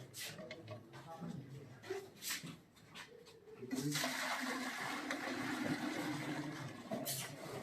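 Milk is poured into a container on a scale during live milking, a steady liquid rush that starts midway and continues to the end. Earlier there are shuffling, handling noises and faint voices.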